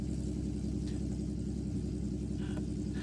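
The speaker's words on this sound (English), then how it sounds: "I love how it sounds like a tractor." A Robinson R44 helicopter engine idles with a steady, low, tractor-like rumble, close and unchanging throughout.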